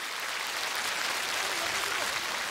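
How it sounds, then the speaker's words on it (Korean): Applause from a studio audience at a televised regional singing contest in Hwasun, South Korea, a steady even wash of clapping for a couple of seconds. "박수 받으시고."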